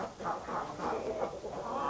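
A rooster at a small animal exhibition in Leingarten clucks in a short series of soft, rhythmic calls, close by against a quiet hall background.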